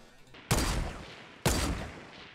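Two sharp, loud gunshot blasts about a second apart, each with a quick echoing decay, from Fortnite gunfire.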